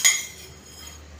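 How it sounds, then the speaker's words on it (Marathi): A metal spoon gives one bright clink at the start while measuring cumin seeds for a cooling sherbet, followed by a faint, quiet rustle; no talking. "मी आता हे 4 चमचे जिरं घेते"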